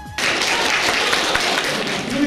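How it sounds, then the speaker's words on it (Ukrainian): A hall full of people at a Ukrainian school event bursts into applause, dense, loud clapping that starts abruptly and carries on evenly throughout. "весь зал аплодує"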